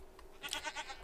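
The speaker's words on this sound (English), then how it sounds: "Freaking goat." A goat bleats in a Minecraft modpack game, a short series of wavering, nasal cries over about half a second, moderately loud against faint background hiss.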